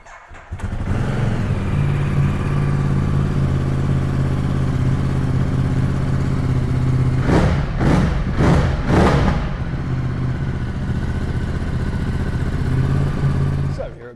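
Ducati Multistrada 950 adventure motorcycle idling steadily up close, with a few loud throttle blips around the middle before settling back to a constant rumble.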